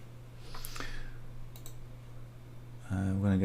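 A few sharp computer mouse clicks land in the first two seconds over a steady low electrical hum, followed by a person starting to speak near the end.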